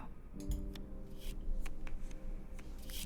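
Cards shuffled in The Cosmic Wheel video game during a tarot-style reading: a soft, papery riffling and rubbing that runs about three seconds at moderate loudness, with a faint low hum beneath.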